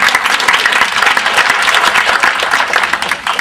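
A community forum audience breaks into a round of applause, dense steady clapping that fills the room evenly for several seconds without a break.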